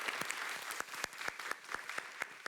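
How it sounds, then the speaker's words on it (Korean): Audience members at a K-pop industry forum applaud the panelists, the claps distinct and fairly sparse, each sharp slap standing out against a faint, distant wash of clapping. "다시 한번 감사의 마음 박수로 드리도록 하겠습니다."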